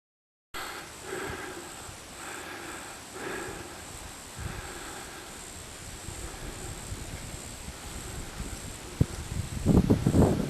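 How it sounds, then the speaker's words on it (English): Wind moving through trees along an oxbow lake shoreline, a steady breezy rush with occasional soft knocks and scrapes of limbs rubbing together, growing a little louder and busier toward the end. "The wind is blowing and it makes limbs hit other limbs and scrape, and you pick up those sounds."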